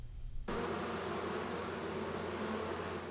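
A dense, steady buzzing of many bees at a bee-friendly habitat fills the air after a brief quiet start, continuous and close.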